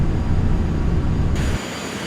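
In Flight Simulator X, an airliner lands at Princess Juliana Airport with a loud, steady jet engine roar and low rumble. The roar drops off suddenly near the end, leaving a lighter hiss.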